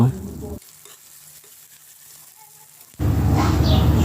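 Chopped garlic, onion and chili hit hot oil in a pan, starting with a quieter stretch before the sizzle suddenly surges into loud, steady frying with a dense crackling hiss.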